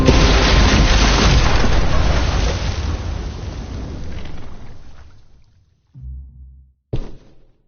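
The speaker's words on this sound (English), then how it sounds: "Shit, the bomb!" A bomb explodes in The Walking Dead video game, Definitive Edition season 4: a loud, roaring blast that rumbles and slowly fades over about five seconds, followed by a couple of short, lower thuds.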